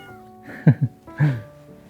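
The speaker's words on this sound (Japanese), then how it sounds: "代わりに猫さんがお出迎えしてくれました" Outside a curry shop, a cat gives a couple of short meows of greeting, close and clear against a quiet background, the second call drawn out a little longer.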